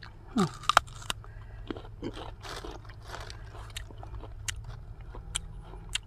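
Crisp fresh date fruit bitten into and chewed, a loud crunchy bite near the start followed by a series of sharp crackling chews at close range.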